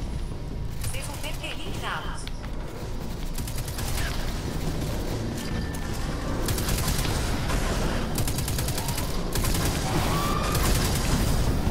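Gunfire in the game Destiny 2: sustained rapid automatic bursts and repeated shots rattling almost continuously, loud and close, with someone talking over much of it.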